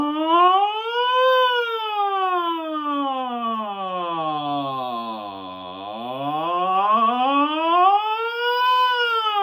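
A single voice sings a smooth sustained "ah" that sweeps up and down through its range, imitating an ambulance siren's rising and falling wail.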